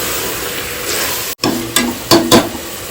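Tomatoes sautéing with salt in a pan make a steady, close sizzle, briefly cut by a gap and followed by a few scraping stirs of a spoon.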